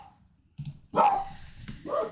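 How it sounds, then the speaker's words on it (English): Dogs bark in a horror video game, Pumpkin Eater, with a few sharp close barks and yips in quick succession against a quiet background. "Oh my God, dogs."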